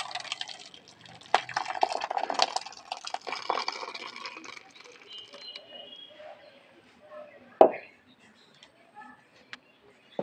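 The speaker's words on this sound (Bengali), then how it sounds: "একটা গামলা ঢেলে দেবো।" Thick rice kheer payesh being poured from a pot into a large bowl, a wet, sloppy pouring and dripping run that fades, followed by a single sharp knock near the end.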